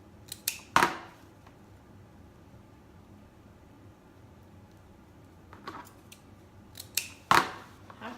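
Scissors snip through deco mesh for a wreath: a few crisp, close cuts, one near the start and another near the end, separated by a long stretch of quiet room tone.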